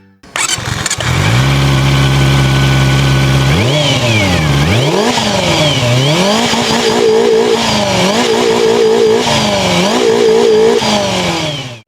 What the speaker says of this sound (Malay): Ramai orang dia memang nak dengar bunyi motor ini.